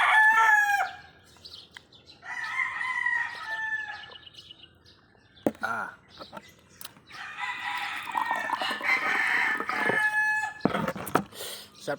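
Chickens and a rooster at close range: a rooster crows loudly and repeatedly, while hens cluck and small birds chirp in between.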